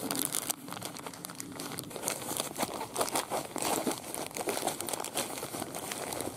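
Rummaging in a backpack through toilet paper, matches and hand warmer packets, producing continuous close crinkling and rustling of plastic wrappers throughout, with no voices.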